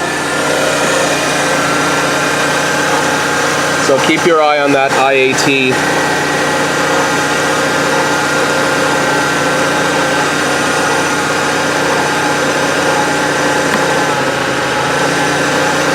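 A car engine running steadily at idle, a constant low hum throughout, with someone speaking briefly over it partway through.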